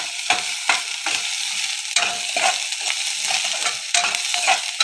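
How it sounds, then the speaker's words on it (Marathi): Green chilli, curry leaves and onion being stir-fried give a steady, close sizzle broken by rhythmic scrapes and clacks of a spatula against the pan, without speech. "ओली मिरची, कढीपत्ता, कांदा टाकायचं आणि असं रवायचं."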